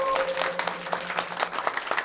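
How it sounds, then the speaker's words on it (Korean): Audience applause in a Korean-dubbed technology showcase, welcoming Worldview president and CEO Ryan Hartman to the stage; steady clapping of moderate loudness with a faint tone lingering underneath, no voices. "월드뷰의 사장 겸 최고 경영자 라이언 하트먼을 큰 박수로 맞아주십시오."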